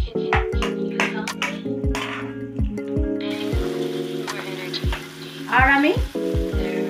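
Broccoli and chicken sautéing in a pan with sauce, a steady close sizzle and crackle with periodic scraping stirs and a brief louder burst of frying near the end.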